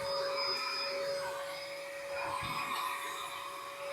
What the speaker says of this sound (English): So now let's grab the vacuum.